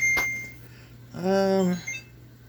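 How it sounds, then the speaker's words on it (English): An oven timer sounds a single sustained electronic beep lasting about half a second, near and clear, following a brief click in a quiet kitchen. "Timer went off."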